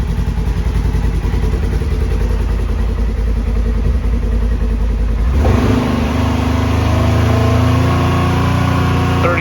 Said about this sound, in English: Just a quick little rev up to 6.